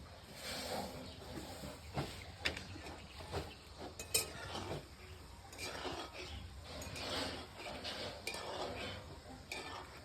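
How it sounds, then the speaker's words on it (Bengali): Pots, plates and utensils clatter during washing in a home kitchen, with scattered clinks and knocks over a steady background hiss, moderately near and fairly quiet, without talk. "ওই হাঁড়ি থালি বাসন থুচে বোধহয়"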